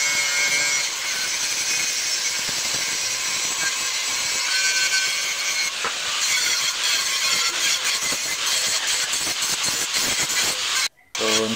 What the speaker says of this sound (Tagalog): gamit na to atong grinder nga powerhouse gyapon